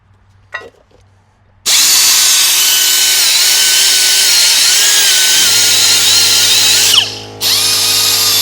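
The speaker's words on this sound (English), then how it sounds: "then we're going to switch back over to the angle grinder and do the same thing." Angle grinder cleaning the rear brake caliper bracket on a 2018 Honda CR-V during pad and rotor replacement; a faint tap first, then a loud, steady whine runs nonstop for nearly seven seconds with a brief pitch dip near the end.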